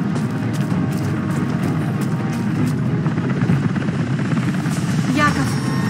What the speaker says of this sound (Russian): Яков, тебе летят вертолеты!